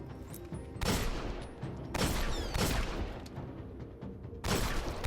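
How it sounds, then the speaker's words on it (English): Video game gunfire with armor-piercing rounds: three loud, sharp shots spaced a second or more apart, each with a long ringing tail over a steady background. "Armor-piercing rounds let you shoot through multiple enemies. But what about shooting through walls?"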